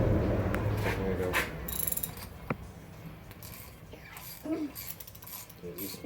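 A ratchet clicks in short runs while a bolt is tightened on a 5.3 LS engine intake during a junkyard teardown, close and moderately loud, with metallic taps, clinks and creaks between the runs and no talk heard.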